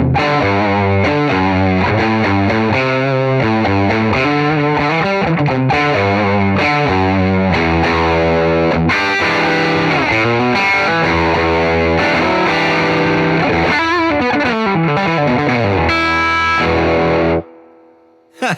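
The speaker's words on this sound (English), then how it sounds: "Now let me turn on my EQ pedal." Electric guitar played loud through an EQ pedal for a gnarly, mid-heavy distorted classic rock tone, with chords and riffs ringing steadily for about seventeen seconds before stopping abruptly.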